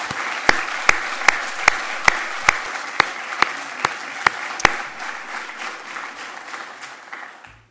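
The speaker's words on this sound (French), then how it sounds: "Je vous demande de les applaudir." An audience at a national congress opening session breaks into applause, with a run of sharp regular claps over a steady wash of clapping that slowly fades.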